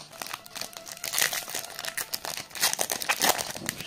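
Dense crinkling and ripping of a Pokémon GO trading card booster pack's foil packaging, close and continuous, with sharp bursts of tearing throughout.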